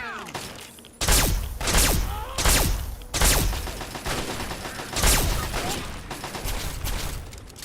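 Heavy bursts of gunfire ring out in a Fallout 3 firefight, several loud booming volleys arriving in uneven clusters over a constant background din, with occasional voices in the mix.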